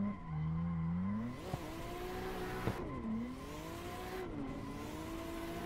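Video game car sliding after a hard e-brake pull, a steady droning engine with a sustained tire squeal that bends and wavers through the slide, punctuated by a couple of sharp knocks.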